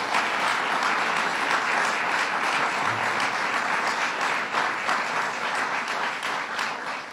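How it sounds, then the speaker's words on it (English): An audience at a governor's bill-signing event gives the Assembly and Senate a round of applause: dense, steady clapping fills the room throughout, loud and continuous. "let's please join me in giving the Assembly and the Senate a round of applause for their"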